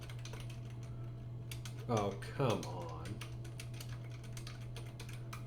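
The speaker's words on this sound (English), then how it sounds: "I'm just gonna keep typing." Fast typing on a computer keyboard, dense rapid clicks in an uneven, busy rhythm, close and clear, briefly under a man's short frustrated remark over a steady low hum.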